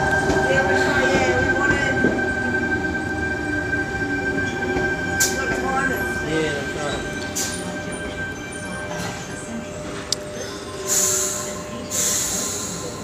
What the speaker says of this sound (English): We have a graffiti train now arriving